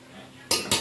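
Rice, egg and vegetables being stirred in a pan, heard as two quick scraping clacks of a utensil against the cookware over a quiet background.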